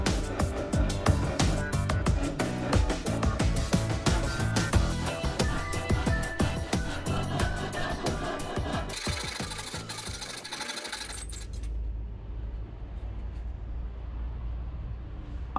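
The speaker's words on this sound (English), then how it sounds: "Carefully start sawing with the manual saw to make more or less straight cut." A manual hand saw cuts through wood for a small water wheel build, making steady, close rasping strokes for about eleven seconds before the sawing stops.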